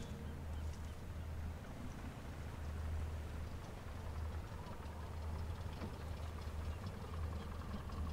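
Motor boat engine in Sniper Elite 4 droning steadily with a low, continuous rumble throughout, unbroken and moderately distant.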